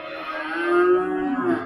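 A large, fat cow at a livestock market in Gijduvon gives a single long, close, drawn-out moo.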